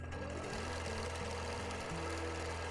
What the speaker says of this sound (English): when I press on, the needle is going to start going at that rate